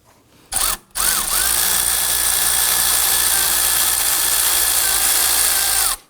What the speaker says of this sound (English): Let's go ahead and loosen up this 12mm adjuster bolt right here.